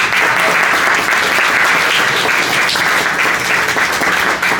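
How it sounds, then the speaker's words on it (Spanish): Loud, close audience applause at a book presentation, a thick uninterrupted roar of clapping that holds steady throughout. "Les pido un fuerte aplauso,"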